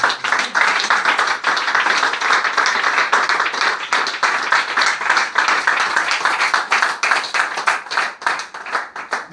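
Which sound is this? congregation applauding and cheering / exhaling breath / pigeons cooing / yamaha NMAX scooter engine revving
congregation applauding and cheering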